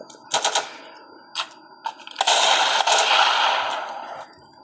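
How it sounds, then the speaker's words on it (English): Automatic gunfire in the Modern Guts and Blackpowder video game: a few short, sharp bursts, then one loud sustained burst of rapid shots that trails off. "automatic guns. Much better than a musket instead."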